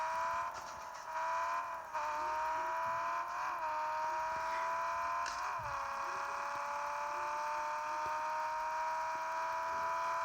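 A synthetic Honda Civic engine in a car parking video game whines at a steady high pitch, rising and dipping briefly with gear shifts, with faint clicks in the background.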